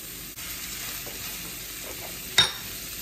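Shrimp cook in a pan over medium-high heat, giving a faint, steady sizzle with a short sharp clatter of stirring near the end; no one speaks.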